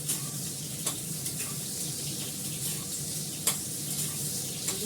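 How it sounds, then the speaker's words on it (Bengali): Eggplant fries in a pan with ginger paste, a steady sizzle running throughout with a few sharp clicks of a utensil stirring against the pan, close and moderately loud. "বেগুনটা একটু ফ্রাই করে এটা দিয়ে অল্প করে জল দিয়ে দেবো।"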